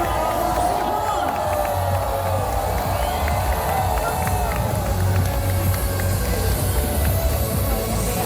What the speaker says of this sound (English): We want you to scream and cheer for them as loud as you can.